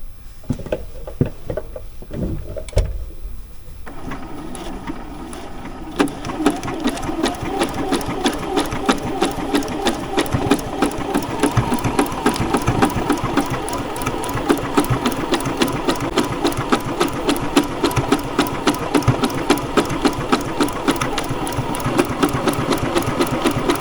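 A new domestic sewing machine running a decorative stitch, a fast, even mechanical chatter of needle strokes under a motor hum, close and continuous after a few quiet clicks at the start.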